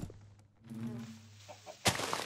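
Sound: chicken clucking in video game Minecraft

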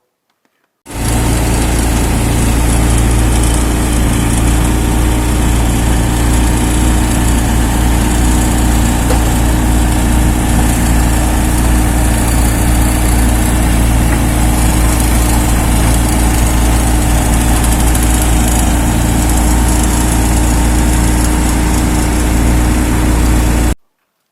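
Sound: tractor digging earth

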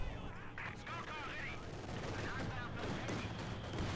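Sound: DP light machine gun fire, from the video game Company of Heroes 2

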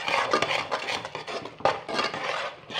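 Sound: stirring flour into boiling water in a pot

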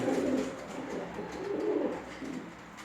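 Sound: pigeon cooing, red feathered gevşane breed

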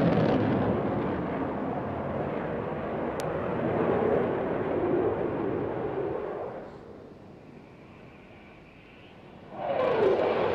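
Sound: RAF Eurofighter Typhoon jet at an air display

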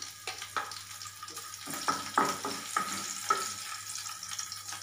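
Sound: green chillies frying in hot oil

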